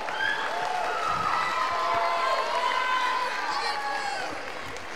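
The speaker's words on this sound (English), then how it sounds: "Let's give her a round of applause." Steady applause and cheering from a school concert audience at a middle school spring concert, honoring a student soloist; dense, continuous and fairly loud throughout, with scattered whistles and voices, tapering slightly near the end.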